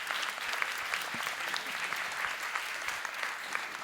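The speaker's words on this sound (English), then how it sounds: "could you all please give a round of applause to our panel" Steady, dense applause from a conference audience after a panel discussion on media literacy, many hands clapping together throughout at a moderate, distant level.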